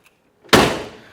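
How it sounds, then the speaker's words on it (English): A single solid door of a 1968 Ford Mustang convertible slams shut, a sharp heavy thunk that rings briefly and fades, close by with nothing else around it. "Doors shut nice, no issues there."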